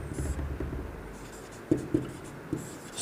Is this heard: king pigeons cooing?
no